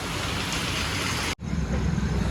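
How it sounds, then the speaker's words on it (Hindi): Heavy rain pours down in a loud, steady hiss. It breaks off for a split second and then resumes just as strong. "रोक लिया हमने तो, बारिश इतनी तेज हो रही"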